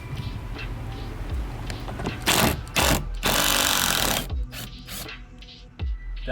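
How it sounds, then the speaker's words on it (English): Torx T20 screws come out of a BMW E46 front passenger door panel, with close mechanical ratcheting and whirring in several bursts and a sustained loud stretch in the middle. "So next we're gonna remove the 5 screws we just revealed."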